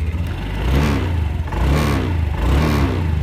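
Yamaha Genio 2022 scooter on its stock exhaust, running close by with a few quick throttle blips that swell and fall in an even, mid-pitched buzz.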